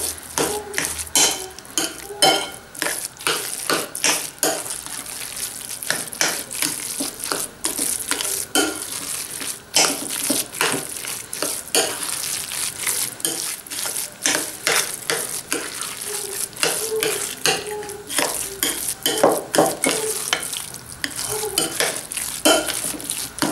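Rice is mixed firmly in a bowl for rice balls with parmigiano and mozzarella, giving a steady run of close, dense scraping and clattering stir strokes against the bowl, continuous with no talking.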